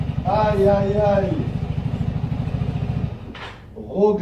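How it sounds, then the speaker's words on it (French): A Vespa scooter engine putters at a steady idle with a regular low pulsing, close by, while a voice speaks over it near the start. "Regardez-moi ce super scooter Vespa, les gars."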